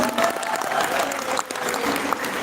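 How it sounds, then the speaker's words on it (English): A crowd at a beauty pageant claps steadily and loudly, dense applause filling the room with a voice briefly heard over it. "Can we give her a round of applause, please?"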